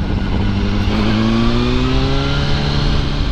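A Ferrari sports car engine revs nearby on a street, a loud, rising, strained engine note that climbs in pitch over a few seconds, alone with no voices.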